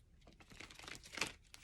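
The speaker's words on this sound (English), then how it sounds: "I'm going to just do a couple quick shuffles here" A deck of tarot cards is shuffled quickly up close, giving a soft, papery riffling and crinkling burst with a few sharper flicks, quiet and alone.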